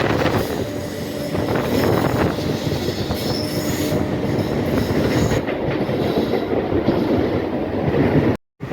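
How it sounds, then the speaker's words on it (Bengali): A Howrah–Belur Math local train hauled by a WAP7 electric locomotive slows near Liluah station, heard from on board as a loud, steady rail rumble with wheel squeal that cuts off abruptly at the end. "যেহেতু সামনে লিলুয়া স্টেশন ঢুকছে, ওই জন্য আমাদের ট্রেনকে দাঁড় করাবে"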